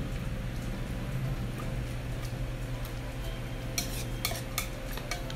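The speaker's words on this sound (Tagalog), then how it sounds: "Inahalo natin. Kailangan mamix siya ng maigi." Pork adobo marinade being stirred in a bowl, soft wet scraping and faint utensil clicks at a steady low level, with a few sharper taps near the end and no talking.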